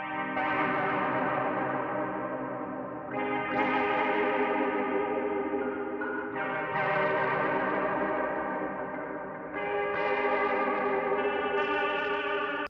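Synth-style chords processed through the Monolith plugin on its dead VHS preset, sustained and warbling with chorus, distortion and echo, each chord swelling and holding in long loud washes.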